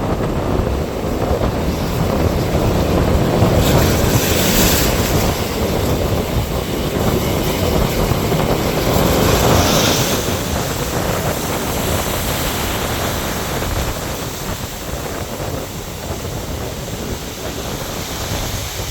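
Rough, stormy sea surf at the Mathagal coast in Jaffna, heard as a continuous loud roar of crashing waves mixed with gusting wind buffeting the microphone, steady throughout with no voices.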